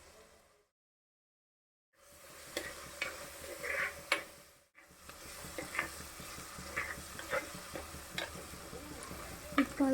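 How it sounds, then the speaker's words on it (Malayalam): Onions and green chillies, salted, sautéing in a pan for a toddy-shop style curry with kudampuli; a steady close sizzle with repeated stirring scrapes and taps, after a brief silent gap near the start. "ഈ ഉള്ളിയും പച്ചമുളകൊക്കെ പെട്ടെന്നൊന്ന് വാടി കിട്ടാൻ വേണ്ടി നമുക്ക് അതിൻ്റെ അകത്തേക്ക് കുറച്ച് ഉപ്പ് ചേർത്ത് കൊടുക്കാവുന്നതാണ്."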